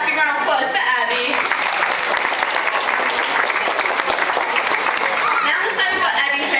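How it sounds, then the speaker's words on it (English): An audience at a dolphin and seal show breaks into loud, sustained clapping and cheering, a dense wash of applause lasting several seconds, with some crowd chatter mixed in. "Give a nice big round of applause for Abbey."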